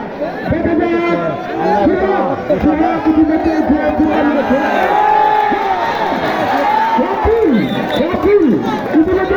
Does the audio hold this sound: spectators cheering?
yes